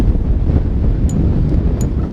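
Wind buffets the microphone during a ride on a Desiknio Pinion Classic e-bike, a loud, continuous low rumble that swamps everything else.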